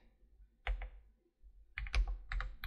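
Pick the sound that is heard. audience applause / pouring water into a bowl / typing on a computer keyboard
typing on a computer keyboard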